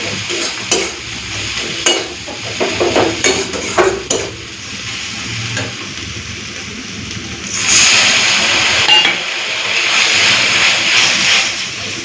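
Poppy seed paste with chilli fries in a pan for egg posto, with a spoon scraping and clattering at first, then a louder, steady sizzle taking over.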